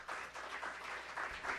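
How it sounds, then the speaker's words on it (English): Applause from the audience at a Board of Education meeting, a quiet, brief patter of clapping that comes from the room at a distance. "Don't clap."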